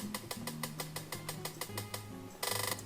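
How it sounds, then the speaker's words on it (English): Short, crisp hi-hat-like ticks built from a cat meow's white noise tail, played in a quick steady rhythm over a low bass line, ending in a brighter, denser burst. "so it sounds like basically a hi-hat."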